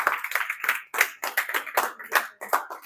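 Church congregation clapping in unison, a brisk irregular burst of sharp hand claps from a crowd, close and lively with no voices over it.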